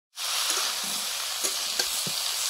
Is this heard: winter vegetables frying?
yes